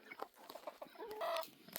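A rooster clucks in short, uneven bursts close by, with a few louder squawky notes near the end.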